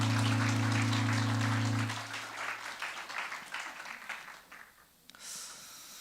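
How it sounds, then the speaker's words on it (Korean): A church congregation breaks into clapping after a held musical tone fades, the applause loud at first then thinning out and trailing off, with a brief noise near the end. "큰 박수로 축복하겠습니다"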